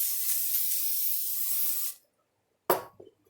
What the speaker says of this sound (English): you can just spray it with olive oil spray